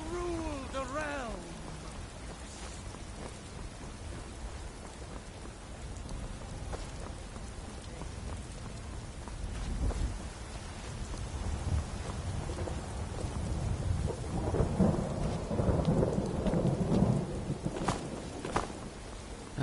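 Steady rain with rumbling thunder in a stormy outdoor scene from Skyrim, a continuous wash of rainfall with low rolls building louder toward the end, no talking.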